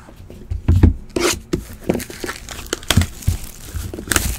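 A blade cracks open the sealed packaging of a 2017 National Treasures Collegiate trading card box, making sharp close crackles and plastic crinkling and tearing in irregular bursts.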